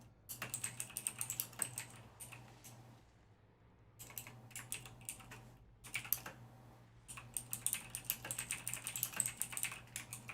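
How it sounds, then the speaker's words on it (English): Rapid typing on a loud computer keyboard during an Outriders gaming session, clattering in dense bursts with a short pause in the middle, close and clear with no voices. "Sorry if my keyboard's loud, I can mute it."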